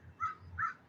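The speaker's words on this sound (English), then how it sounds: "so I've got chickens to the left of me and different varieties of birds." Outdoors with chickens nearby, a bird gives two harsh, raspy caws in quick succession, moderately close, over faint background noise.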